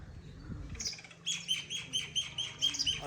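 Small birds chirp in a Pakistani village in cool weather, a faint low rustle giving way to a rapid run of bright, repeated tweets close at hand.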